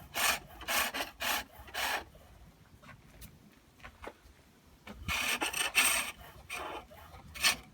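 Roughing gouge cutting a wooden garden dibber handle on a pole lathe, giving bursts of rasping, scraping shavings in rhythmic strokes with quieter pauses between, close and moderately loud.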